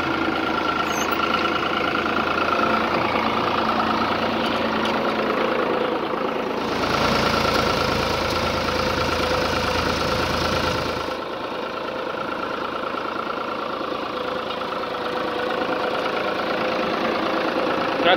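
A New Holland TD65 tractor engine runs steadily during a performance test in a field, a loud, even diesel drone with a knocking rumble that dips and shifts in tone midway before settling again.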